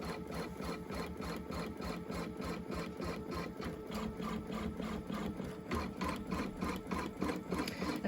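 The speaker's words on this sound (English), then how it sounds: "it's going to stitch the rest of the basting stitch out" An embroidery machine stitches a basting stitch on a pillow case, a steady fast mechanical needle chatter with a regular pulsing rhythm, close and continuous throughout.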